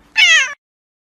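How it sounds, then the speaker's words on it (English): A single clear, close meow, short and bright, followed by silence. "say meow"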